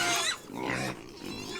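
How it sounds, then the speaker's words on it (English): Pigs on a homestead grunting and squealing close by, a few loud, rough calls in quick succession. "noisy pigs"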